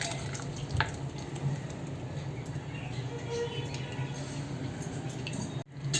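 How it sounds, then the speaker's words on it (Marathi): Faint wet squishing and dripping as a thick ground coconut mixture is pressed through a strainer, quiet and close, with a low hum underneath. "आता आपण एका चाळणीमध्ये असं गाळून घेऊया."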